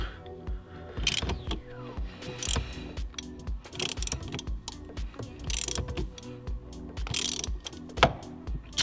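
Ratchet wrench loosening a bolt on an Audi B8 shift linkage, quick runs of clicking ratchet strokes with metallic knocks and rattles, close and busy, with faint talk in places.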